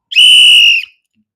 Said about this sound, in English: Go ahead and blow the whistle.